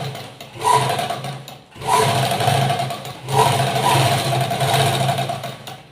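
A tailoring machine stitches a slip in three bursts of rapid, buzzing needle action, each lasting about a second or two with short pauses between, close and clear.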